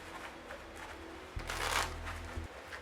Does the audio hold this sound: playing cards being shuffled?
yes